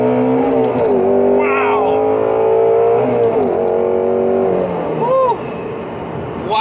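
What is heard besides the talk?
Shelby GT350 naturally aspirated engine accelerating to redline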